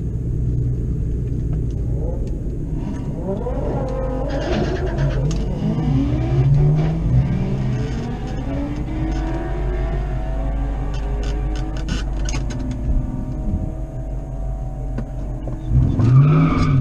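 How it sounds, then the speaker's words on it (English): A 2V Ford Mustang does a small burnout on street tires: a loud, steady engine rumble with rising revs and squealing tire chirps sweeping up and down, ending in a louder surge near the end. "Something small, a little burnout."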